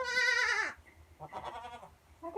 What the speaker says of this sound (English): She's a goat that I bottle fed.